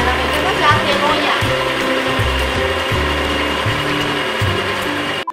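A Kenwood Kcook Multi food processor running its quick soup program with onion and oil inside, giving a loud, steady whirring motor drone with a rhythmic stirring pulse. A person speaks over it.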